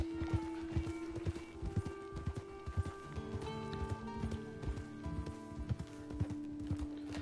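Horse hooves clip-clop at a steady trotting rhythm in the video game Red Dead Online, with moderate, continuous footfalls over a soft ambient music bed.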